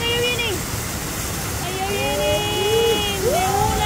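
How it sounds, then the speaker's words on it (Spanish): A small waterfall cascade rushes steadily and loudly nearby, a constant wash of falling water with faint tonal whistles drifting above it while people talk over the noise. "Pero la cascadita esa, mira, bien chiva, ¿no?"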